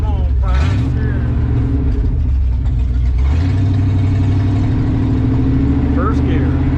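The engine of a 1970 Ford F250 truck runs loud and close, its rumbling drone rising and falling in pitch as it revs and pulls away in low gear.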